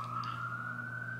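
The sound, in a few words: emergency vehicle siren outside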